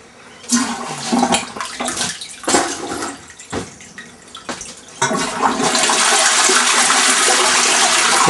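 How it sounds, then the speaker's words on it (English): Toilet flushing away a dead fish, starting with a few splashy bursts of water and then building into a loud, steady rushing flush that carries on to the end, with no talk. "You had a flush, yeah."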